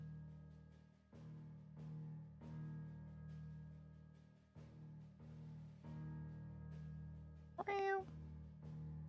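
A cat meows indoors beside a gaming PC, one short loud meow near the end over a steady low hum and faint background noise.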